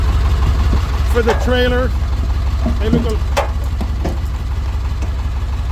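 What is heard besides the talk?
International 4700 T444e diesel semi-tractor engine idling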